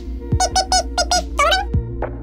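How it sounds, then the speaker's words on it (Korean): A digital door lock is worked as a door opens, giving a rapid series of short electronic beeps and chirps followed by a few clunks, close and clear. "시계바늘이 오후 7시를 가리키자 도어락문을 여는 소리가 들리기 시작했어."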